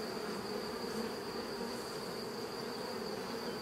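Honeybee swarm from hive six, a dense, steady buzzing drone of many bees close by, humming continuously without pause.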